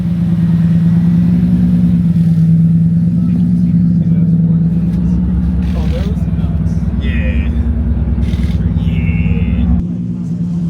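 The engine of a BMW E36 drift car runs with a loud, steady low rumble and slight revving, heard close, with people talking over it.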